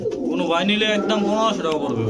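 Pigeons coo in a soft, throaty, rolling series, close by, with the low warbling calls repeating throughout.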